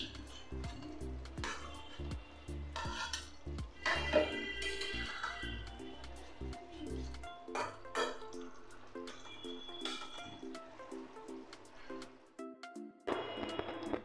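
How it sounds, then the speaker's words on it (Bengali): Paneer cubes going into a pan of simmering curry with ridge gourd, a faint series of wet splashes, drips and soft sizzling bursts with some clinks, quiet and close, without speech. "এবার আমি পনিরগুলো দিয়ে দিচ্ছি।"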